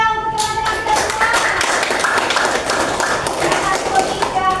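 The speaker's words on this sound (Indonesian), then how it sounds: "Tepuk tangannya untuk teman-teman kita semua." A classroom of students applauds together at a school lesson, a dense, steady burst of many hands clapping that fills the whole moment at close range.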